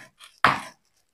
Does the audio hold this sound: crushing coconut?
yes